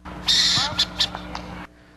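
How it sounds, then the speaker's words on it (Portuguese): A close owl gives a series of harsh, screechy calls at a sports training ground, several short bursts over about a second and a half, with a low background hum. "Ainda um pouco tímida, a coruja volta para dar aquela espiada."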